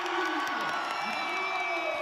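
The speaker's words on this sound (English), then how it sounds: "Cheering her on every meter of the way," Young fans cheer a swimmer at a swim meet, a loud, steady crowd roar with whoops and high shouts carrying through the whole stretch.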